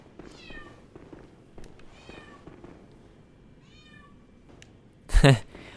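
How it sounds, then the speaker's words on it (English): A roommate's agitated cat meows repeatedly in short, rising cries at close range, several separate calls, followed by a sudden loud thump near the end. "my roommate's cat was just freaking out"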